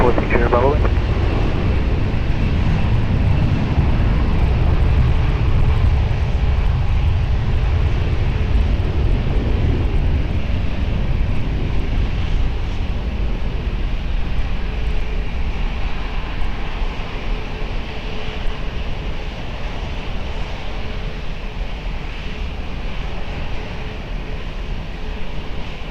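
A fixed-wing airliner takes off from Lisbon Airport, a loud broadband engine roar that peaks early and stays strong as it climbs away, gradually easing; radio and control-tower chatter sits faintly underneath.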